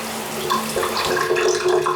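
A replacement shower head spraying water in a steady hiss, switched between a misty spray and a full shower stream, close and continuous with no talking.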